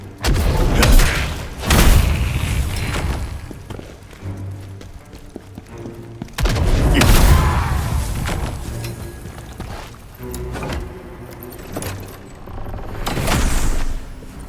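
Bomb blasts in the action game The First Berserker: Khazan, several heavy booming explosions spread across the stretch, some rolling on for a second or more, loud and close against a rumbling game backdrop.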